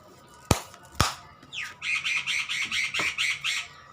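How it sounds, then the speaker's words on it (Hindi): Birds calling outside a window: two sharp knocks, then a rapid series of about nine bright, squawking chirps repeating in a steady rhythm, close and clear with no talk. "बाहर मेरे विंडो की चिड़िया बोल रही हैं"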